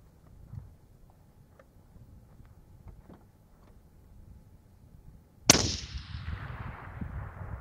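A suppressed Savage 10 FCP-SR rifle in 6.5 Creedmoor fires one loud, sharp shot on a long-range outdoor course, with a long fading tail after faint rustling background.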